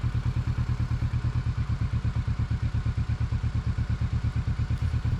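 A motorcycle labours down a slippery mountain descent on the Tour du Mont Blanc route, its engine thumping in a steady, rapid, even pulse at low revs, close and continuous, with faint clatter over it.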